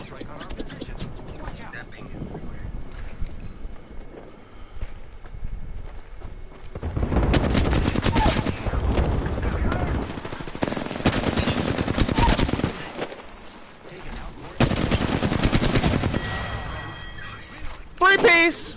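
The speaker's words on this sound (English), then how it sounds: "There is an airstrike on our position." Airstrike bombardment in Apex Legends rumbles in long loud bursts of rapid impacts and gunfire, swelling and fading in waves, with someone speaking over parts of it.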